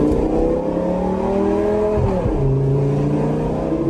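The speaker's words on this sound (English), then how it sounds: "let's get the keys to go take this thing for a test drive" A sports car in sport mode on a test drive, its engine revving and accelerating loudly and close up, the pitch climbing, dipping briefly and rising again, with no voices.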